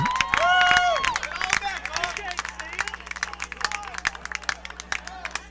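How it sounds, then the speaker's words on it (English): Spectators at a high school baseball game clap in scattered, close bursts while voices shout and chatter around them, the applause thinning into irregular individual claps. "I'm not sure what the applause is for."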